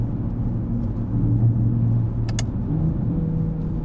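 Porsche Panamera 971 engine running in Sport Plus mode, a steady low, rumbling drone at moderate revs, close and continuous with a brief sharper burst partway through, no talk.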